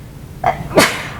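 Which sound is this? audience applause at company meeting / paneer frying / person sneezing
person sneezing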